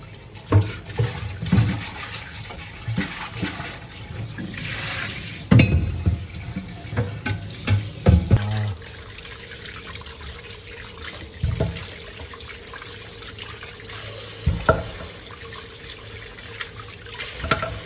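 Tap water running into a kitchen sink while raw meat for balbacua is rinsed, a steady close wash broken by louder splashes and clunks of handling, with no talk.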